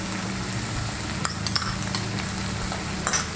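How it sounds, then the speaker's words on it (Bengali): Sugar being stirred into a radish curry with mustard-poppy seed paste in a pan, a steady low sizzle with a few brief scraping clinks of the spoon against the metal. "চিনিটা ভালো করে মিশিয়ে নেব।"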